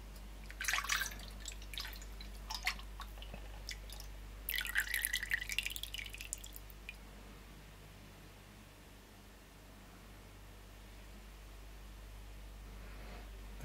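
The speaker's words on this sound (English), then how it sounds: "Pour the wax into there." Kerasoy Pillar 4120 melted wax is poured in two short, splashy bursts with a pause between them, followed by a quiet, steady hum.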